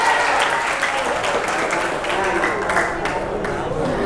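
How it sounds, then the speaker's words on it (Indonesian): Dense applause from a group of students at a school OSIS leadership training, steady and fairly loud for a few seconds, with voices mixed in. "Tepuk tangan."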